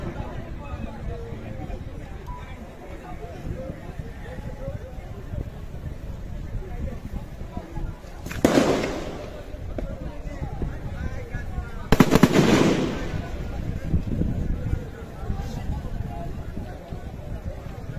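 Two sharp muffled bangs of police firing tear gas canisters at a street confrontation, each leaving a brief noisy burst over a constant crowd murmur and background commotion, with people talking throughout.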